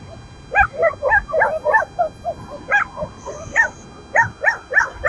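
Several small dogs yip and bark in quick, high-pitched bursts, overlapping in a lively chorus nearby.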